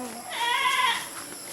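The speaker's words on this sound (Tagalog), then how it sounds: "At mga maiingay na kambing." Goats bleat on a farm yard in the Philippines, one loud wavering bleat rising over a steady background hiss, fairly close, with no talking during the call.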